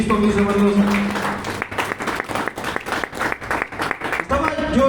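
A church congregation applauding, a dense run of clapping from many hands that swells and holds, with a preacher's voice talking at the start and again near the end.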